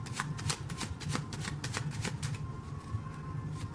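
A Lenormand Roses card deck is shuffled close up, its dense rapid card flicks coming for about two seconds and then easing into softer handling with a faint hum underneath, and no one speaks.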